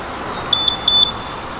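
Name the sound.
Yamaha NVX 155 ABS motorcycle alarm system beeping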